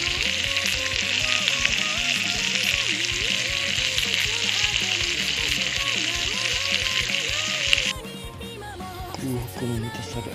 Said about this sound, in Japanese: 肉の焼ける音をお楽しみください。